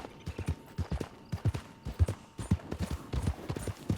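Horse hooves clip-clop steadily in Red Dead Online, a close, even rhythm of hollow knocks at a walking pace, clear and upfront with no talk over it.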